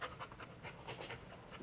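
A dog pants quickly and rhythmically close by, short breathy puffs repeating without pause and no voices over them.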